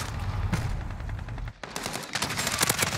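Shotgun fire from a Call of Duty Modern Warfare match, heard as dense, rapid bursts of game gunfire that drop out briefly mid-clip and then resume loudly with sharp repeated blasts.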